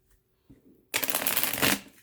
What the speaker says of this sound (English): when I shuffle